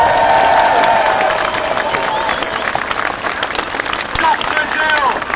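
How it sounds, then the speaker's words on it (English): Applause and cheering from an audience at a public talk, a dense wash of clapping that is loudest at the start and then holds steady, with voices and shouts mixed through it. "Give her a round of applause."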